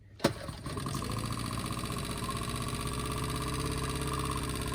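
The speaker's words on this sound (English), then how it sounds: "The first thing that we tested is engine." A boat engine is started with a sharp burst, then settles into a steady, loud, even running drone that continues without a break.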